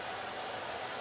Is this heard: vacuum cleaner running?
yes